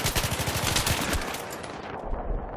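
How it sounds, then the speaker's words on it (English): Battlefield 3 gunfire, a fast rhythmic burst of automatic shots up close, then thinning out into a fading echoing tail and a low rumble. "There's a guy shooting at me."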